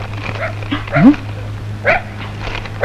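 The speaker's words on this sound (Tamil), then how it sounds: "துப்ரீம் நாய் சீசர் கொலையாளியை கண்டுபிடிக்க மதுரையிலிருந்து விரைந்து வருகிறது." A police sniffer dog gives a couple of short yelping barks over a steady low electrical hum, the calls brief and fairly close, with quiet murmuring between them.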